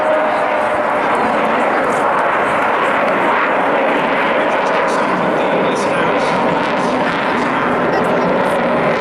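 An Avro Vulcan XH558 bomber flying at the Portrush Airwaves airshow in 2015, a loud continuous jet roar filling the whole stretch, steady and broad with no breaks.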